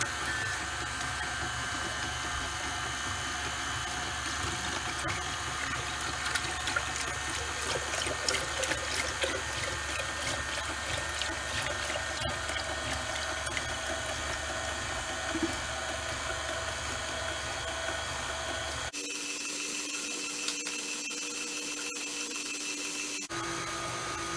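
A home ice cream maker churning daiquiri sorbet mix into a thick slush gives a steady motor whir with a faint watery sloshing, running continuously and fairly close before it cuts away near the end.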